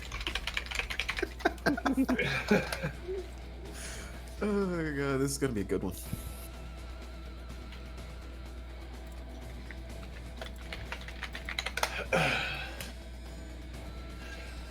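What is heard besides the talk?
typing on a computer keyboard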